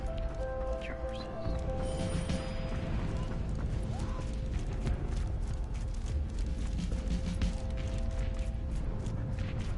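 Horse hooves clip-clop in the video game Valiant Hearts, a dense steady patter of hoofbeats under continuous battlefield noise and music lasting throughout.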